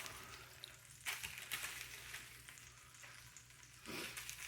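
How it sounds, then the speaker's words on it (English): Quiet, steady sizzling of oysters frying in butter on a hot griddle, with occasional louder crackles and bursts as pieces are moved. "I see it sizzling. I can smell the butter"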